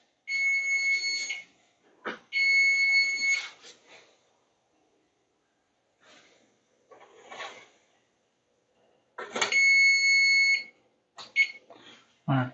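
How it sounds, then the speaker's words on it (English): A kitchen timer beeps in loud, bright bursts while apple cinnamon rolls are baking, the beeping stopping and starting amid kitchen clatter and brief handling noises. "that timer is off"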